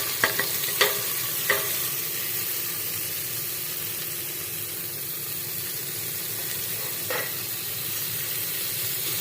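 Onions and tomatoes frying in a pan with little oil for green peas curry, a steady hissing sizzle with a few spoon clinks near the start and one later, close and continuous.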